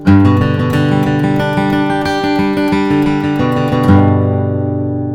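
A quick run of bright, crisply flatpicked guitar notes in a steady rhythm, ending on a ringing chord that fades out.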